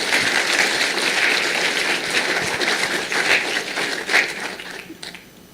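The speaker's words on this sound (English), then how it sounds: "Let's give a big round of applause and a welcome to Shell Country to Coach Holler" An audience at a sports parents' meeting applauds to welcome the coach. The clapping is a steady, full roar that tapers off toward the end.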